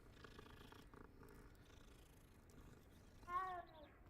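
Purring of a cat in Hogwarts Legacy, a low steady rumble running through the clip, with a brief brighter mew-like sound near the end.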